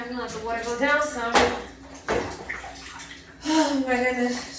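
Bathtub water draining during a shower curtain change, a steady gurgling rush with tonal, whistling swirls and a couple of sharp splashy bursts, close and fairly loud.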